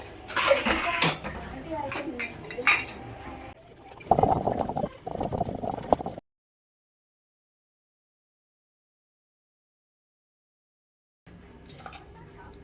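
Pots and utensils clatter and scrape in a home kitchen while lentils and boiled ingredients are moved into another vessel, with bursts of clanking, a long silent gap, then more handling, under intermittent talk.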